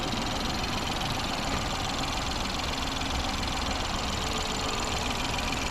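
A 2017 Ford Focus 1-liter turbo engine idles steadily, a constant close mechanical hum with fine ticking texture and no speech over it; the car has a check engine light on.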